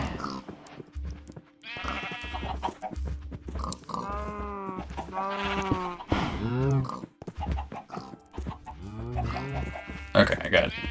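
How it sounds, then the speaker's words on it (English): Sheep, pigs and cows in the modded Minecraft video game bleat and grunt in dense overlapping calls, loud and close throughout. "I got 2 sheep, 2 pigs, 2 cows."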